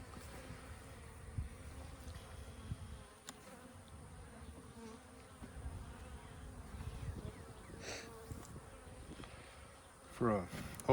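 Honey bees hum steadily around an open hive on an overcast day after light smoking, a calm continuous buzz close by with a few louder passes near the end.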